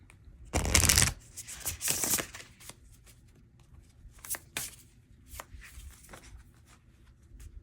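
Mushroom oracle cards being shuffled by hand: two dense riffling bursts close up near the start, followed by softer, scattered card flicks and taps.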